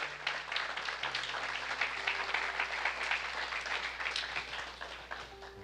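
A church congregation applauds in praise during a Spanish-language sermon, a dense, steady crowd clapping that fills the space for several seconds, with a low organ or keyboard tone held underneath.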